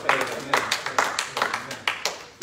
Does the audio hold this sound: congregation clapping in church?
yes